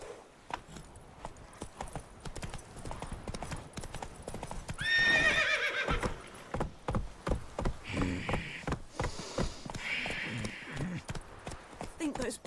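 Roach, the horse in The Witcher 3: Wild Hunt, gallops with a steady run of clip-clopping hoofbeats and gives a loud whinny partway through, while a voice talks over the game sound.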